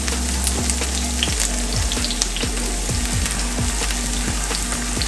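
Green onions (scallions) sizzle and fry steadily in a pot for Jamaican stew chicken, with a continuous loud crackle and periodic scraping or stirring knocks throughout, no talking.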